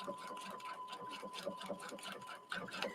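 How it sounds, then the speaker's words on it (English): A Brother sewing machine stitches through a single layer of fabric, giving a steady, fast, rhythmic mechanical whir that runs close and continuous throughout. "Now, I'm only sewing on one layer right now."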